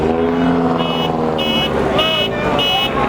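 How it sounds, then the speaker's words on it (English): Several cars rev their engines at a car meet in a loud, overlapping roar, with sharp pulsing bursts and people talking over the noise. "we sort of got everyone revving now all of a sudden"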